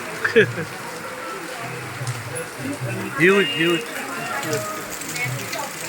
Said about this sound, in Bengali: প্রচন্ড ঝেঁকে বৃষ্টি চলে এসেছে